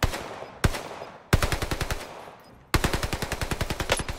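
Automatic gunfire in a shooter video game: three loud, close bursts, a short one followed by two longer runs of rapid, evenly spaced shots.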